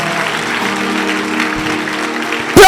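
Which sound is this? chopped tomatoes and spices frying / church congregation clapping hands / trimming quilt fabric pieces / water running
church congregation clapping hands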